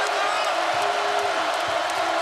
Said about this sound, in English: That brings the crowd back to life on this 8-0 run.